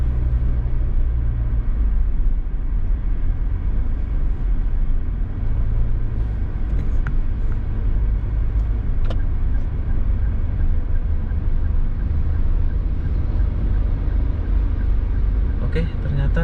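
Heavy traffic crawling through a jam on a city road in Batam, with cars and long trucks, forming a steady close rumble of engines throughout and a few brief sharper sounds near the end.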